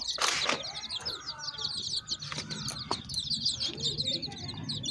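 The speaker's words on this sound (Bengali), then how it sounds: "এই মুরগিগুলো" Village chickens in an old house cluck and flap their wings, producing a busy mix of squawks, chirps and wingbeats that runs continuously at close range.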